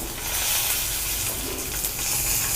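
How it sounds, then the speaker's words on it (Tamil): Tomato and shallots sauté in a hot pan for moong dal sambar, giving a steady, loud, continuous sizzle and hiss with no pauses. "கொஞ்சமாக அந்த சின்ன வெங்காயத்தையும் நம்ம போட்டு வதக்கிக்கலாம்"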